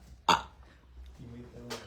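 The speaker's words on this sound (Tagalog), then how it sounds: "I can burp anytime, anywhere." One short, abrupt burp made on demand stands out early on, followed by faint voices and low background murmur.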